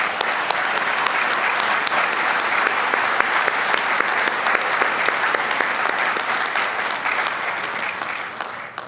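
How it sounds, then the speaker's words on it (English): A large audience at a Blue Ridge Community College fall commencement ceremony applauds, producing sustained, dense clapping at an even volume throughout, with scattered louder individual claps standing out. "Let's give a round of applause to all who have helped our graduates reach this day."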